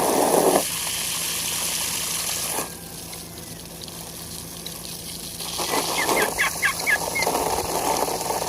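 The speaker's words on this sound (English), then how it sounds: "That's a hybrid, chicken guinea hybrid right there. Chicken half guinea." A chicken–guinea fowl hybrid gives a few short, chirping calls in quick succession near the end, over a steady background of running, splashing water.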